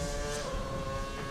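Classic Formula 1 car with a V8 engine in a racing video game, braking late into a corner: a steady, buzzing engine roar held at constant loudness for about a second and a half, with no talk.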